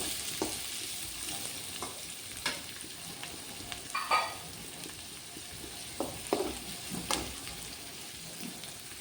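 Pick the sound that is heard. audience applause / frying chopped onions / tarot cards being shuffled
frying chopped onions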